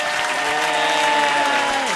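Studio audience applause at a podcast taping, a dense, continuous wash of clapping that holds steady and loud for the whole stretch, with a sustained tonal sound running beneath it.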